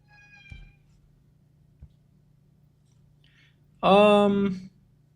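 A cat lets out one loud, drawn-out meow near the end after faint earlier sounds, set against a quiet indoor hum with brief soft speech.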